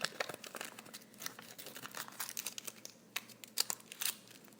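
Thin foil nail wrap crinkled and pressed around a fingertip while soaking off gel polish: a steady run of soft, close crackles and crinkles, with a few sharper snaps near the end.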